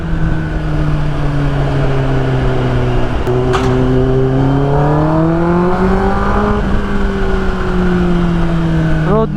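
A 2024 Kawasaki ZX10R sport bike accelerating in road mode on a city ride, its engine note loud and close as it climbs through the revs, shifts briefly, then pulls up again.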